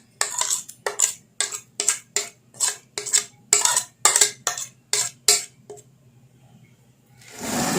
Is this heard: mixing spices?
yes